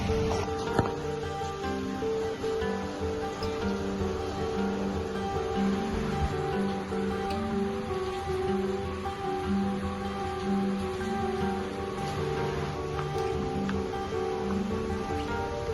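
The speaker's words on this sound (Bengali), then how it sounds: "অনবরত বৃষ্টি হয়েই যাচ্ছে" Steady rain falls without a break, a constant soft hiss with a low background hum and no voices.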